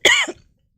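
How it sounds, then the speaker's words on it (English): A single sharp, close cough from a person, loud and brief, trailing off into silence. "Yes, I got a cough."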